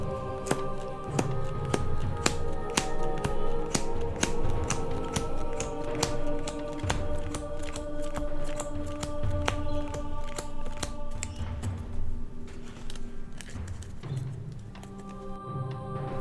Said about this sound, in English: we're just going to count out 25 cards, so we're going to divide the deck in half